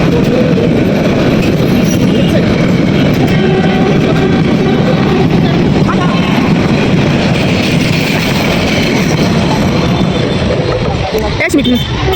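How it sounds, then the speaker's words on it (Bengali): A train passes close along a railway line, a loud continuous rumble with rhythmic clatter of wheels over the track and a brief squeal near the end, with people talking underneath. "আজকে ট্রেন দেখবো"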